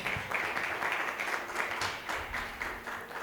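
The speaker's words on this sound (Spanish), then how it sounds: "Dale palmas de alabanza a Jesús" A church congregation claps in praise during a sermon, a fairly faint but steady patter of many hands with soft rhythmic pulses and a few voices mixed in.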